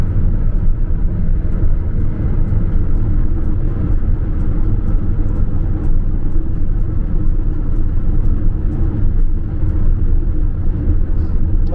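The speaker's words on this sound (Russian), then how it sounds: "Мерседес сила вообще. Обожаю эту машину." A Mercedes driving at speed produces a loud, constant roar of engine and road rumble, steady and close throughout with no talk.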